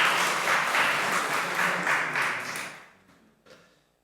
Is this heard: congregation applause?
yes